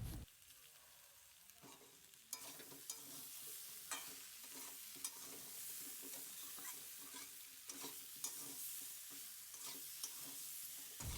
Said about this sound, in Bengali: এবার দিয়ে দিলাম টমেটো কুচি। দিয়ে এটাকে ভালো করে নেড়ে নিতে হবে।